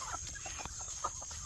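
Chickens in a homestead yard give short, scattered clucks at moderate volume over a quiet outdoor background.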